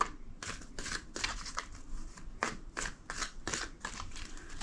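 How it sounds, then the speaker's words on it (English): A deck of tarot cards shuffled by hand, with repeated crisp riffling bursts about every half second, close and steady, with no voice over it. "2 more shuffles."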